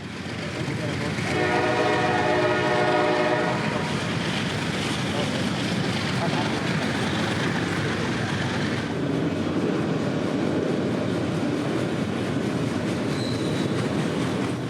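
A CSX manifest freight train, M453, with over 100 cars and auto racks at the rear, sounds a loud sustained horn blast early on, followed by the steady roar and rumble of cars rolling past close by.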